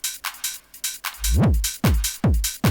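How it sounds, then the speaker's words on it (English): Looped trance drum beat with punchy kicks, then a reversed kick swells up and cuts off sharply before the beat resumes; loud, close, no voices. "one of my favorite ways to transition is just to literally reverse the last kick"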